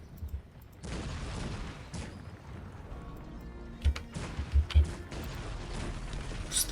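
Gunfire from units shooting in a Cossacks 3 desert battle: repeated bursts of volleys and booms over a steady game din, with a few sharper, louder cracks later on.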